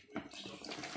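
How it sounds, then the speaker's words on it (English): Stout pouring into melted butter in a bowl for an Easter bun mix, a steady liquid splash and trickle lasting about a second, close and fairly loud. "we are going ahead adding our stout to our melted butter"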